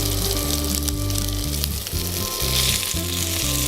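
Salmon skewers frying in butter in a hot pan give a steady, loud sizzle that runs throughout, with a rhythmic musical backing playing beneath it.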